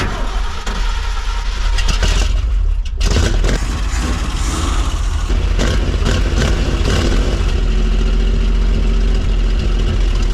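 Ford F-350 pickup from around 1978, being revived, cranks and fires up, then settles into a loud, rough idle with a steady low rumble and a slightly rattly top end.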